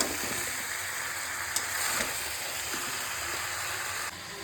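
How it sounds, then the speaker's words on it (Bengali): Papaya pieces frying over high heat, a bright continuous hissing sizzle heard up close, with a couple of brief stirring clatters, easing slightly at the end. "চলো এগুলো ভালো করে একটু হাই হিটে ভেজে নেবো"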